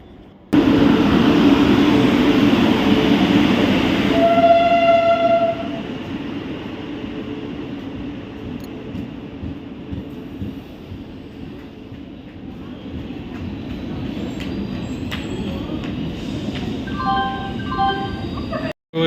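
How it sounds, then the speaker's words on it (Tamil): A passenger train bound for Kollam pulls into a station and stops. It opens with a loud, roaring rush that eases into a lower rumble, with faint high brake squeals and clanks near the end. "ஒரு ட்ரெயின் வந்து நின்றுட்டுருக்கு."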